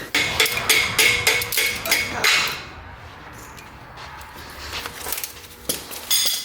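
Sharp, repeated hammer blows on metal while tearing down a cheap 1JZ engine, a quick cluster of bright strikes, a pause, then a few more scattered hits close by.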